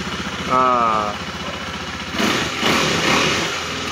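A 2019 KTM Duke 390 motorcycle idles with a fast, even thump, then its engine rises briefly in pitch and revs again a moment later, heard close up.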